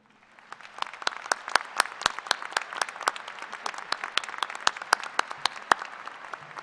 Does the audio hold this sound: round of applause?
yes